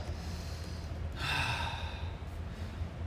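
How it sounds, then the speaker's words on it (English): A single deep breath from someone resting between sets of a dumbbell strength workout, a breathy exhale or sigh about a second long, standing out briefly from low room hum. Nobody speaks. "Take some deep breaths."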